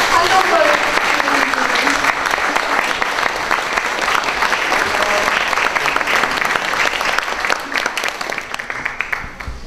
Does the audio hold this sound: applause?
yes